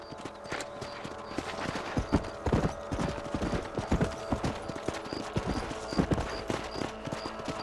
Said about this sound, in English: Let's mount up and patrol the rest of the property.